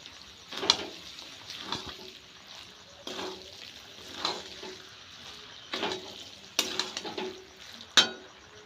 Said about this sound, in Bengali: এবার সিদ্ধ করে রাখা মটরগুলি দিয়ে একটু নেড়ে চেড়ে নিতে হবে।